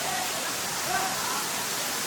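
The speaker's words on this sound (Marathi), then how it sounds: "इकडे पण धबधबा दिसतो तो बघा." Steady broadband roar of the Nhavankond waterfall, a continuous rushing wash of falling water that holds an even level throughout, with faint voices in the background.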